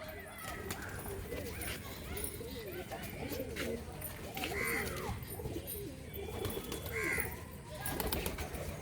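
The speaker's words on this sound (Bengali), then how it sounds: "পায়রাটা বিশাল পায়রা, পায়রাটা খুব পছন্দ আমার।" A pigeon coos in low, rolling phrases that repeat several times over a dense, noisy background that persists throughout.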